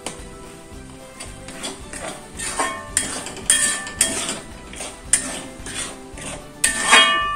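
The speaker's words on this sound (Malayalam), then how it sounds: "നന്നായി ഇളക്ക." Metal spatula or ladle scraping and clinking against a pan while chilli garlic chicken sauce with chilli sauce is stirred, irregular close knocks and scrapes over a steady kitchen hiss.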